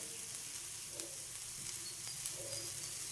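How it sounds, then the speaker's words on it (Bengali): Onions for an onion singara filling frying in a pan make a continuous even sizzle, close and moderately loud throughout, with no talking. "পেঁয়াজটা আমার আধ ভাজা হয়ে গেছে, এর চেয়ে বেশি আর ভাজবো নি আমি"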